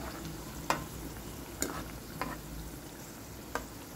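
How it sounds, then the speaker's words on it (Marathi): Alu vadi pieces frying in hot oil at home, a quiet, steady sizzle with a few distinct clinks or taps of a utensil stirring at spaced intervals. "असं हळूहळू सगळे वडी तळून घ्यायचे."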